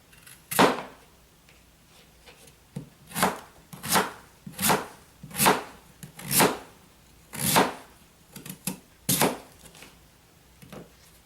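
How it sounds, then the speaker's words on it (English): A knife slices through a beet on a cutting board, with about a dozen sharp, close chops in an uneven rhythm, separated by short quiet gaps and a few lighter taps. "The beet here I'm cutting up. I'm going to cut up real small."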